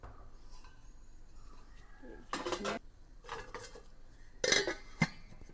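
Old metal pots, dishes and lids clatter and clink in a few separate bursts as they are handled for washing, with a sharp clank near the end over a quiet room.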